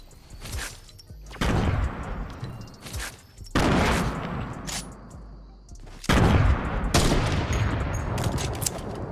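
Gunfire from the battle royale game Fortnite breaks out in three loud, sustained bursts of rapid shots, each trailing into a noisy wash before the next volley.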